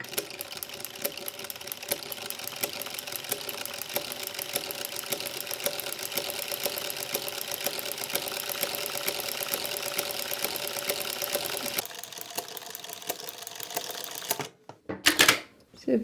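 An industrial sewing machine fitted with a pleating presser foot stitches ruffles in a rapid, steady mechanical chatter. It runs continuously for most of the span, then slows and stops with a few final clunks near the end.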